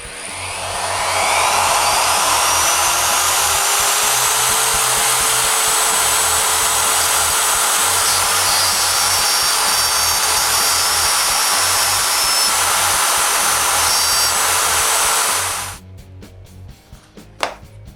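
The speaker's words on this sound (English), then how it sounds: "with the help of inlay bushing, I route away some wood around the hole" Router fitted with an inlay bushing cutting away wood around a hole by following a pattern, a loud steady high whine held for about fifteen seconds before it cuts off, with no talking.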